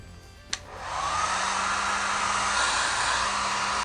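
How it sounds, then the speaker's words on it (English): A click, then a blow dryer whirs on and runs steadily at a loud, constant pitch up close. "grab your blow dryer, and you ain't about to hear me right now"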